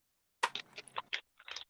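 A crunchy peanut butter Clif Bar is chewed in a handful of sharp, close crunches that come in an uneven rhythm, with no talk.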